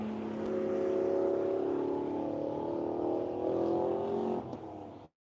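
A race car at the finish line of the One Lap of America event holds a loud, steady engine drone with a slight pitch change as it passes close, then drops away abruptly.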